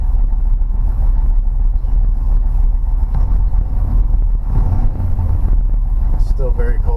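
A Plymouth Fury with a 383 V8 running cold after stalling: a loud, steady low engine rumble close by, buffeted by outdoor wind noise, with a brief voice near the end.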